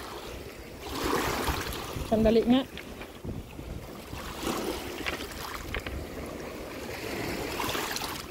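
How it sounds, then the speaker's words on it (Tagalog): Rough, wind-driven water with strong waves slaps and rushes beside a boat, with gusty wind buffeting the microphone while people talk over the noise. "Pag malakas ang hangin, lumalakas ang alon."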